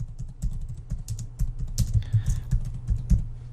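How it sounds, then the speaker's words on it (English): Computer keyboard keys tapped in quick, uneven bursts while entering text in an online course platform's automation settings, close and fairly loud with a low steady hum underneath. "and I'll just type this in here"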